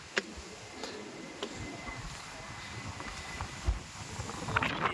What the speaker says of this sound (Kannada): ಆದರೆ ತುಂಬ ಗಾಳಿ ಸೌಂಡ್ ಇದೆ.